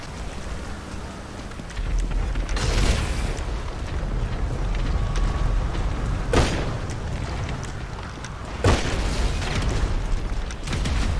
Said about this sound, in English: he's shooting grenades